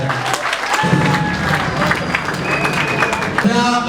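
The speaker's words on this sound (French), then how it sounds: "Applaudissez s'il vous plaît." Guests at a religious wedding ceremony clap together, a steady broadband patter filling the room with some murmuring and a lingering tone beneath.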